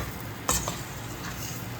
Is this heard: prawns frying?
yes